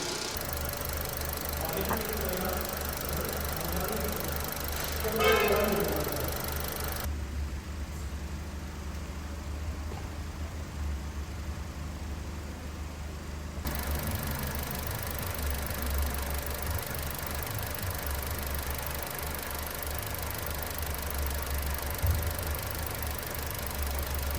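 A Honda Civic with an LPG conversion idles with a steady low engine rumble throughout, with a brief clatter near the start and a muffled stretch in the middle.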